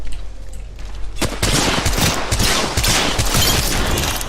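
Sustained automatic gunfire in the battle royale video game Apex Legends, a dense rapid fusillade of shots that erupts after a brief quieter lead-in and stays loud and continuous to the end.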